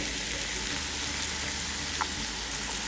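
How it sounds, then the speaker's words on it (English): Carrots and other vegetables sauté in a pan, giving a soft, steady sizzle like light rain that is fairly faint and continuous, with one small clink and no voices. "we're gonna add in our carrots and saute those as well until they get a bit tender"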